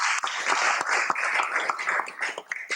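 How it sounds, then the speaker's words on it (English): Audience applause at a devotional gathering with speakers and bhajans, a room of people clapping in an uneven, moderately loud patter of distinct claps that thins and swells across the stretch. "Kindly give them a big round of applause."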